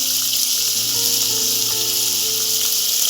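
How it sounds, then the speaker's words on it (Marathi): Mixed vegetables for masala pulao, among them carrot, tomato, baby corn, capsicum and peas, sizzle steadily as they sauté in a pan, giving a constant bright hiss with no talking. "सर्व भाज्या आता परतून घ्याव्यात"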